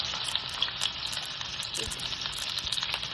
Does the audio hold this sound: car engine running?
no